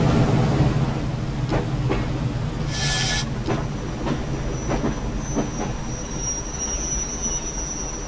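A Class 101 train in Train Sim World, Preston to Ormskirk, rumbles low with rhythmic wheel clatter, a brief burst of hissing air, and a thin brake squeal rising as it slows into a station.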